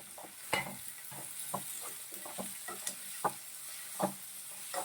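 Onion and tomato fry for upma in a pan, a steady sizzle broken by repeated scraping and tapping of a spoon as it stirs, with no talking.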